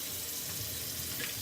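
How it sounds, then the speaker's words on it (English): Hot water running from a kitchen tap into a sink, a steady close splashing rush that holds evenly for the whole moment with no voices. "guess maybe 3 inches of water in the sink, just enough"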